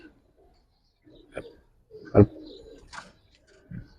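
Giribaz and Pangkhi pigeons cooing in a loft, a few short separate coos spread over a quiet background, with one louder close call and a voice speaking briefly between them.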